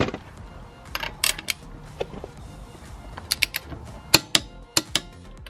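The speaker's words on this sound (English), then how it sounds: "Okay, torquing up then to 100 foot-pounds" A torque wrench tightens car wheel nuts to 100 foot-pounds, with faint creaks, then a run of sharp close clicks and ratchet snaps toward the end, over a quiet garage background.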